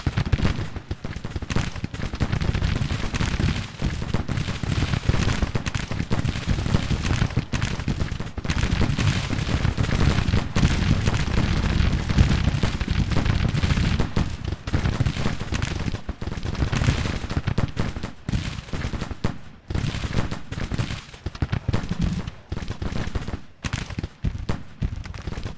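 Rolling artillery and musket fire from a Civil War battle in Grand Tactician: The Civil War, a dense continuous barrage of booms and crackling volleys that stays loud and steady throughout.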